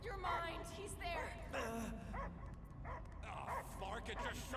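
A dog barks and whimpers in the Marvel's Guardians of the Galaxy video game, with repeated yelps and a drawn-out wail mixed with speech-like vocal sounds at a moderate level.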